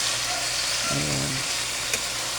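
Bean sprouts, tofu and pork sizzle steadily in a pan while being stirred, with a soft scraping stir in the middle over the continuous frying hiss.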